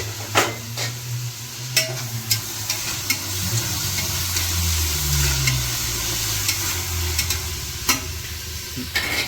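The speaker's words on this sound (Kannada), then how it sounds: "ಈಗ ಮಟನ್ ಹಾಕ್ತಾ ಇದ್ದೀವಿ. ಮಿಕ್ಸ್ ಮಾಡು." Mutton sizzles in hot masala in a pot for biryani while a utensil stirs and scrapes with occasional sharp metallic clinks, loud and close with no talking.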